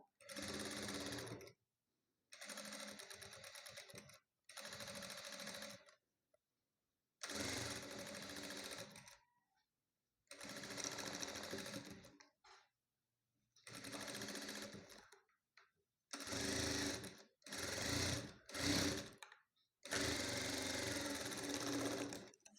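A sewing machine stitches around a blouse neckline in repeated bursts of whirring, each a few seconds long with short pauses between, close and fairly quiet.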